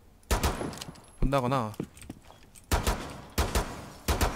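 Sharp gunshots from Rainbow Six Siege on the Dostoyevsky Cafe map, several single loud cracks spaced apart, with a brief spoken word and a short electronic tone in between.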